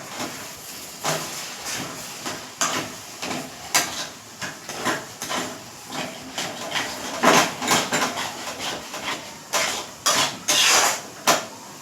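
Crab curry being stirred in a cooking pot, with repeated metallic scrapes and clanks of a spoon against the pot over a soft hiss, in uneven bursts.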